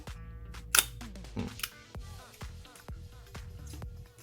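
Camera shutter firing at 1/500 with the shutter wound fully, giving a few sharp mechanical clicks and snaps among softer handling taps and rustles.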